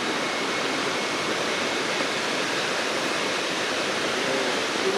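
A waterfall in an Indonesian forest, a loud, steady and close rushing roar that fills the whole span evenly without letting up.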